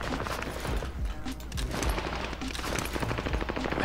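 Rapid automatic gunfire during a fight in a shooter video game, dense overlapping bursts with sharp cracks throughout, continuous and fairly loud.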